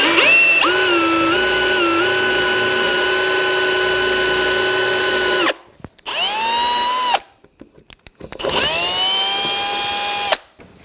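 A power drill boring a one-inch-deep hole whines loudly and close in a long steady run, then stops and restarts in two shorter bursts with brief silences between.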